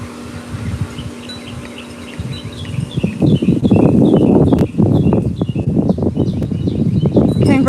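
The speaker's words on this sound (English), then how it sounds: "You hear the birds singing?" Birds chirp and sing in repeated high calls over a busy outdoor background that grows louder partway through, with rustling and thumping noise below.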